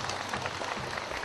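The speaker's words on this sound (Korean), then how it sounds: "큰 박수 부탁드리겠습니다." An audience at a Korean ceremony welcoming returned historical annals applauds in a short burst of dense, even clapping from many hands at moderate volume, with no talking.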